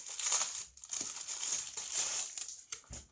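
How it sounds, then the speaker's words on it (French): Crinkly plastic packaging being pulled and crumpled while a pencil case is unwrapped by hand, close and continuous with short rustling bursts and no talking. "je vais la déballer"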